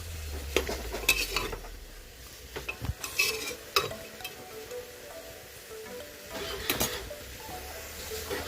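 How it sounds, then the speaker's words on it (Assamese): Salted local chicken meat is stirred in a pot, with a metal spoon clanking and scraping against the pot in irregular strokes over a faint sizzle. No one speaks. "আৰু এনেকৈ খন্তেক লৰাই থাকিম।"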